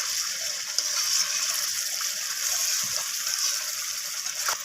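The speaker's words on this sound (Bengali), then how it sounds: "তো এরপর আমি এখানে দিয়ে দেবো প্রয়োজন মতো জল।" Water pours into a pan of browned chicken curry in a steady, hissing gush with light splashing, close and continuous for several seconds.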